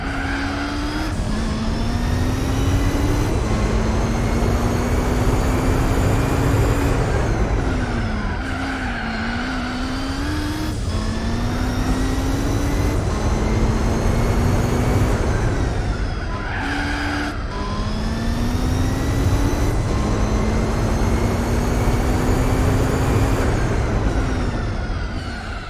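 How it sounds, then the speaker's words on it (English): Racing car engine in Gran Turismo 4 revving hard and continuously while the tyres fight for grip, with pitch rising and dropping through gear changes and squeals and skids running over the top, loud and steady throughout. "So if you heard the car then, it was fighting for grip, it just wasn't there."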